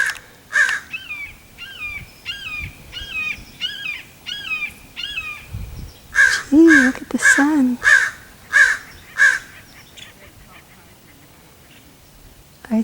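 A raven caws outdoors in a long series of harsh, repeated calls, spaced steadily, with a louder and denser burst later on, while someone speaks briefly in between.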